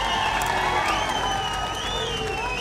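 A crowd at a political rally in Nizamabad applauding to welcome Chief Minister Revanth Reddy, dense clapping and cheering under a loud amplified voice.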